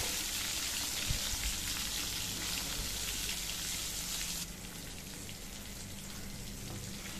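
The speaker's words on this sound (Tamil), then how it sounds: "இந்த மாதிரி ஒரு கத்திரிக்காயாக சேர்த்துட்டு நம்ம நல்லா பொறிச்சு எடுத்துக்கலாம்" Brinjal pieces deep-frying in hot oil for an oil eggplant curry give a dense, even crackling sizzle throughout, close and constant, softening slightly partway through.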